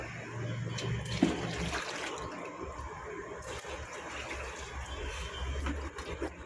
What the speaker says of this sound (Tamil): ஃபஸ்ட்டு மக்கு தண்ணி ஊற்ற போகிறோம் ஃப்ரெண்ட்ஸ்.